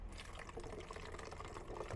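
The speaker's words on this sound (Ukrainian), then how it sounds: "наливаємо в пусту пляшку десь, вода може бути, до речі, будь-якою питною чи не питною" Drinking water poured from a branded bottle into an empty plastic bottle, a faint, steady trickling and splashing stream that lasts throughout at low volume.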